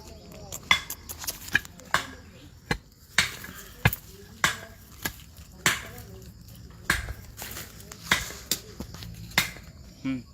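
Hammer blows striking a wooden post being driven into the ground at an outdoor farm training workshop, a series of sharp irregular knocks, close and fairly loud, with people talking in the background.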